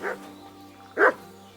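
Two barks from a dog in the video game Kingdom Come: Deliverance II, spaced about a second apart, moderately loud and near, with a low steady hum underneath and no speech.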